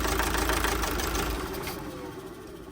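Opel Zafira B engine idling roughly and misfiring with one injector disconnected, a steady low rumbling drone with uneven knocking pulses, close by, fading slightly toward the end.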